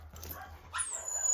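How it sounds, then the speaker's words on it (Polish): A dog barks and yips indoors, a short burst of sharp barks close by with no talking. "sorry za psy, no ale nie zapanuję nad tym."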